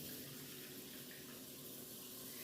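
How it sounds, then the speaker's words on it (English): Tap water runs steadily into a small cooking pot that holds about six cups, a continuous close splashing rush with no other sound and no voices. "we are going to take our water pot here and we're going to add some water to it."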